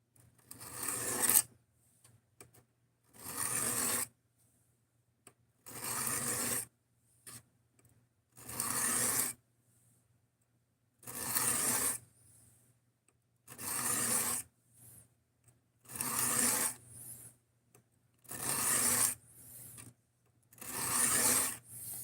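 Hand sharpening by rubbing and filing: about nine long, loud rasping strokes in a steady, evenly spaced rhythm, each separated by a brief pause, close by and with no talk over them.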